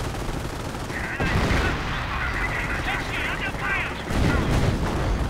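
Artillery fire in a World War II real-time strategy game, shelling an MG42 machine-gun position: a dense, continuous rumble of distant shell bursts and gunfire, swelling louder near the end.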